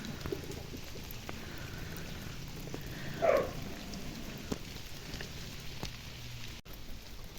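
Steady autumn rain falls outdoors as a constant even hiss of drops on surfaces, with one brief louder splash partway through and no talking.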